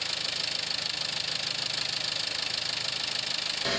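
A car engine warming up toward operating temperature idles steadily nearby, a continuous even hum with a faint rhythmic knock and no voices.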